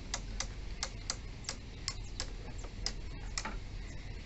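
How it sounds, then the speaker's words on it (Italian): A crossbow being cocked and loaded with a foot in the stirrup, as practised by Lucca crossbowmen, gives a run of sharp, dry mechanical clicks at a fairly regular rhythm, close and clear over faint background noise, with no talking. "è venuto il click, che ha fatto in pratica il caricamento"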